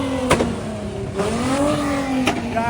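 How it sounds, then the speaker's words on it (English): Truck engines rev and drone at a busy car meet, the pitch climbing and falling in long pulls with sharp pops, loud and nearby. "look at monster trucks"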